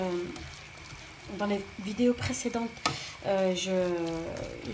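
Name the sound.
stirring spices and parsley in a frying pan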